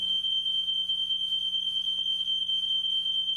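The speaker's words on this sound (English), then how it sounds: "Do you hear the smoke alarm?" A smoke alarm sounds a shrill, piercing tone that holds steady and unbroken throughout, loud and alone in a quiet room.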